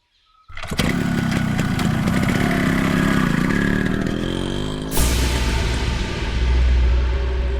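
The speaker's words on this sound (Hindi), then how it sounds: "अभी अभी मेरा बेटा निकला है अपने बाइक पर" A motorcycle engine fires up and revs steadily as a son rides off on his bike, loud and close, with a sharp change partway through as the machine pulls away and the engine note shifts.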